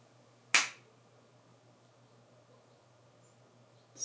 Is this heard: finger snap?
yes